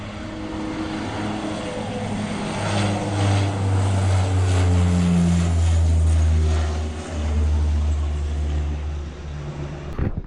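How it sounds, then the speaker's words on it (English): A propeller airplane passing overhead, its engine drone swelling loud and near mid-pass before fading away, with no talk over it. "that plane didn't have much raw"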